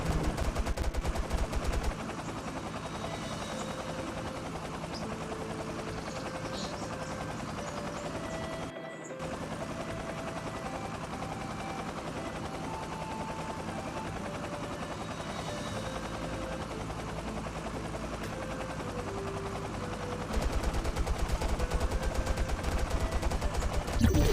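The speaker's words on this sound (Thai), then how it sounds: "ผมก็จะให้คนยิงเครื่องดูนะครับ" In the survival game Last Day Rules Survival, rapid gunfire aimed at a drone rattles continuously over a steady whirring rotor hum, with a brief drop-out partway through and louder stretches at the start and end.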